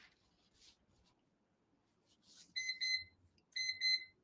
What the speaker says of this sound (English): That was my time timer, sorry.